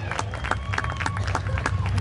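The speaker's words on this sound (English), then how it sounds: "Let's give her another big round of applause." Crowd at a speedway racing event cheering and clapping for the feature race winner, a steady roar of applause with scattered claps throughout, fairly close and loud.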